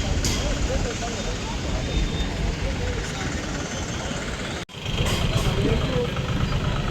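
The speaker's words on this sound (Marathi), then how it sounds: "हे आपलं डिझेल नाही पेट्रोल इंजिन आहे का बघू शकता" A petrol engine driving a chaff cutter machine runs steadily at an agricultural exhibition, a constant close rumble under someone talking, with a brief dropout near the end.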